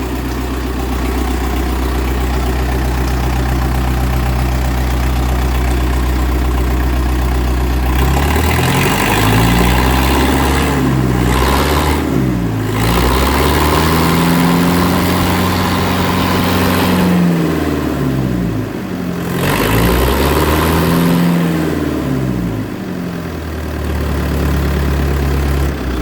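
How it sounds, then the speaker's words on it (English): An old 1970s bulldozer's diesel engine runs loud and close, idling with a deep steady rumble, then rising and falling in repeated revs. "Make sure your dozer's in neutral before you fire it up, or it will take off down the hill without you"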